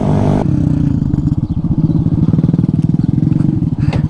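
A small custom budget-build motorbike with a raised front and a standard-width rear rim rides off-road. It gives a loud, close, pulsing single-cylinder putter with rapid rhythmic firing and some clattering over rough ground.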